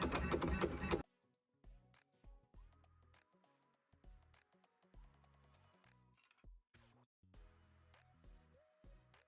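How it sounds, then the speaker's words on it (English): An embroidery machine stitches a placement outline for a caterpillar bug mask. After a brief loud burst at the start, its motor whirs in short irregular runs, stopping and starting between bursts, fairly faint and with no talking. "the first thing the machine is going to do is create the placement stitch so we can layer the first fabric"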